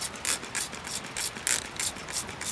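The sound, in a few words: spray bottle spraying water on seeds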